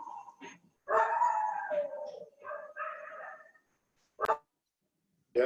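A dog in a household barks and whines during an online webinar, several yipping, howling barks in uneven bursts separated by pauses, fairly close and alone without talk.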